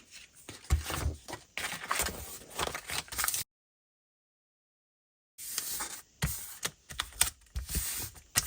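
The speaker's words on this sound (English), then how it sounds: "And we'll put some packaging tape on there." Packaging tape is pulled and pressed onto paper, making a pocket on a handmade rustic daffodil envelope journal, with close, crackly, scratchy bursts that pause into a silent gap before the handling noises return.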